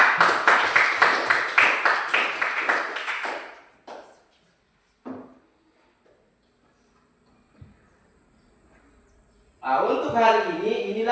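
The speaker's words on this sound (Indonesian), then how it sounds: "kita berikan aplaus untuk teman kita" Classmates in a school classroom clap for a fellow student, a brisk rhythmic burst of many hands lasting a few seconds and fading out, followed by quiet taps and then a voice speaking.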